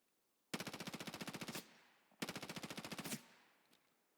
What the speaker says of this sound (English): Why does that sound like bullets are flying past my head?